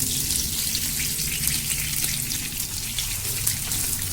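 Paneer frying in a small amount of hot oil during home cooking, giving a steady, dense sizzle that stays even and close throughout with no voices.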